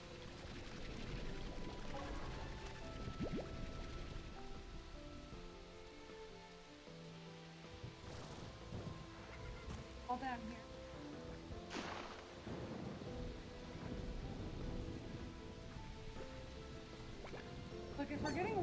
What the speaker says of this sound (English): Absolute worst place for lightning.